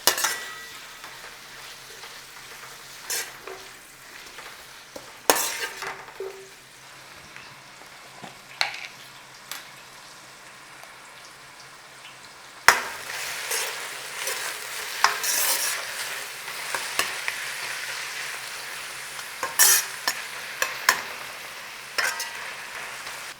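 Onion frying in ghee in a pan, a soft continuous sizzle broken by sharp scraping stirs and occasional utensil knocks, close up, louder in the second half, no speech.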